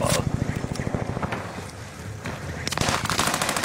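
Rapid bursts of enemy gunfire crackle through a multiplayer shooter match, loud and close, with quick repeated shots in two clusters and a quieter pause in between.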